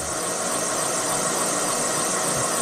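A Moore jig borer faces a high-pressure flange with a 5-inch Wohlhaupter facing head, giving off a loud, dense, steady whirring hiss that never lets up. No voices are heard.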